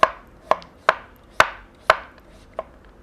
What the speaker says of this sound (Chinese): 再切成片